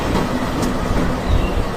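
A red and green zigzag train runs along its track in a video game, giving a steady, fairly loud rolling rumble with faint rail clatter throughout and no talking.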